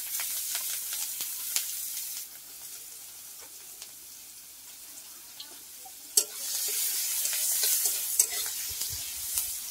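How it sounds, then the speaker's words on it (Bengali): Onions frying and being stirred in hot oil in a pan, with a steady close sizzle and occasional spoon scrapes, the sizzle swelling louder in the second half. "এবার আমি এগুলোকে তেলটাকে একটু ভেজে নেবো, পেঁয়াজগুলোকে ভেজে নেবো।"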